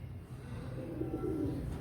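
Close, low cooing from domestic pigeons of the Teddy breed kept in a loft, a soft throaty murmur that swells slightly toward the end.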